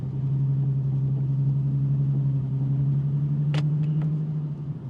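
Nissan 370Z with a Z1 tune and automatic transmission idling with a steady, low, rumbling burble, close and continuous, broken near the end by a couple of short sharp ticks.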